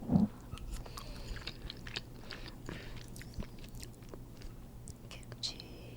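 Close, crisp biting and wet chewing of kimchi at a table, soft crunches and mouth sounds repeating over a low steady background hum, with a murmur of quiet voices.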